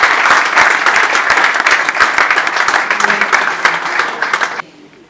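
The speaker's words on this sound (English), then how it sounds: "That deserves a better round of applause." An audience applauds loudly and briskly at a formal address, with many sharp claps packed together before the sound cuts off abruptly near the end.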